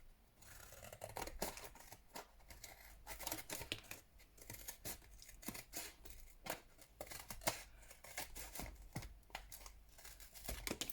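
Scissors cut through the top of a flattened cardboard box for a paper Christmas book-stack craft, giving a close, steady run of crisp snips and rough tearing scrapes with no talk.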